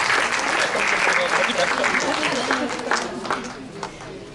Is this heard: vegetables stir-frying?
no